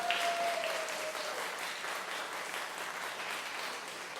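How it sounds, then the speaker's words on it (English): Audience at a Story Night event applauds a local library's staff, a steady wash of clapping that fills the clip, moderately loud and even throughout, with a faint whistle-like tone early on. "please give a round of applause to our friends from the Kitsap Regional Library"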